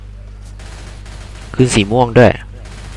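Gunfire in the zombie shooter video game Left 4 Dead 2: quick, fairly faint bursts of shots pop in the background, while someone talks loudly over part of them.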